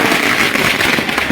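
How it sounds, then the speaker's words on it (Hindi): Fireworks and firecrackers go off in a dense, loud, continuous crackling burst at a BJP workers' celebration in Vidisha, Madhya Pradesh, marking a ministerial post in the state cabinet expansion. "यहाँ पर जोरदार आतिशबाजी के साथ मंत्री पद मिलने पर तमाम बीजेपी के कार्यकर्ता जश्न मनाते हुए"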